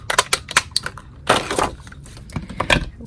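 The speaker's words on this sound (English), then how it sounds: "we're going to take the 2 1/4 circle punch and cut him out." Paper being cut with a 2 1/4 inch circle punch for a Halloween card, heard as a series of close, sharp clicks and crunches. They come in irregular bursts, with a longer louder crunch in the middle.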